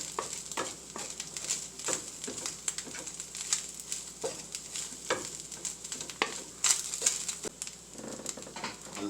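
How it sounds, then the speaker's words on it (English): Lasagna sauce with herbs is stirred in a pan on very low heat, with a steady run of close scraping spoon strokes over a faint sizzle. "I'm just going to give it a mixing, another stirring, another combining of the ingredients here."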